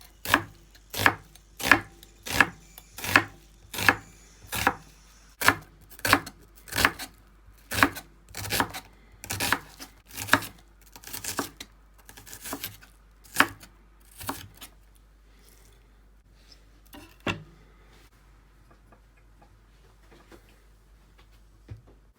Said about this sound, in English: if you're using fresh garlic, you can chop that